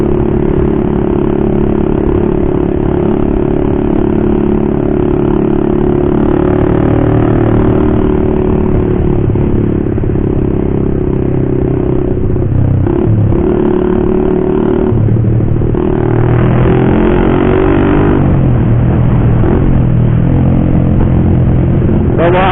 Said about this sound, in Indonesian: Bawaannya pakai knalpot bising tuh, pengen narik gas terus.